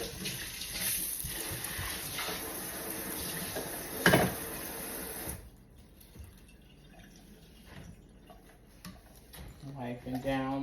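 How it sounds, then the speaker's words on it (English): Hot water runs from a kitchen tap as pans are rinsed, giving a steady hiss with a clatter partway through. The flow then stops and quieter kitchen handling sounds follow. "I always rinse my pans. Anything that comes into my home, I rinse it."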